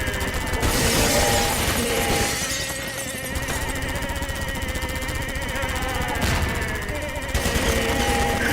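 Heavy gunfire in Half-Life 2 modded with added content, a dense barrage of loud, overlapping shots and sharp cracks that runs almost continuously, briefly easing before surging again.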